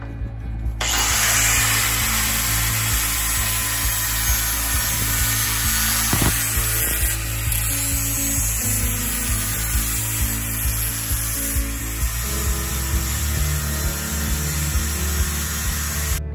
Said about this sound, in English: First, a 120-volt grinder.